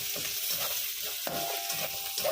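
Potatoes hit hot butter in a pan for giniling and sizzle steadily, while a utensil stirs and scrapes through them in quick, close bursts. No one speaks.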